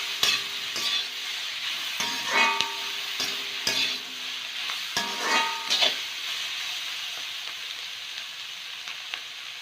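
Onions sautéing in a pan for Pallipalayam mutton, a steady close sizzle with several scraping stirs of a spoon spaced through it, no voices.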